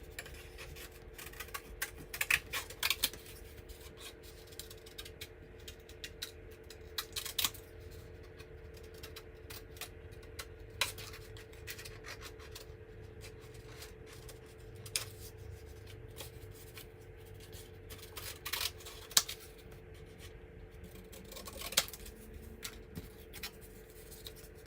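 Scissors fussy cutting paper flowers: faint, close snips and crisp paper rustles recur irregularly over a quiet steady hum, with occasional sharper clicks and no talking.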